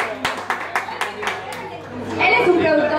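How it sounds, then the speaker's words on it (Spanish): An audience at a McDonald's event claps in thanks, with sharp individual claps at a fairly steady rhythm and chatter and children's voices mixed in underneath. "Un fuerte aplauso para Eli"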